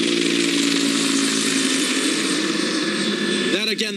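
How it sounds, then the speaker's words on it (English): A park police helicopter hovers overhead, its rotor and engine a loud, constant roar, with a voice briefly heard near the end. "You see the park police helicopter just above us now."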